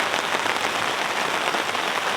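Heavy rain drums steadily on a tent's sun-protection awning during car camping, a dense, even hiss with no breaks, close and loud.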